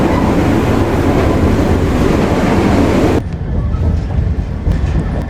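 Indonesian Sribilah Utama passenger train pulling away from Merbau station, a loud steady rumble of rolling wheels and carriage noise that drops to a quieter, rattling ride partway through.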